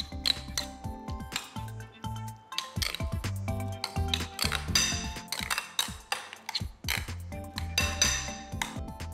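Salted yogurt being mixed in a bowl, with a close, irregular clinking and tapping of a utensil against the dish, rapid and continuous scraping strokes with no talk.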